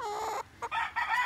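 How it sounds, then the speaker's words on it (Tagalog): A chicken clucks and crows in short bursts, close by, with brief pauses between the calls. "Matakaw na manok mga idol."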